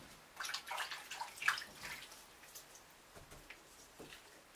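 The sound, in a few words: film tank placed in warm water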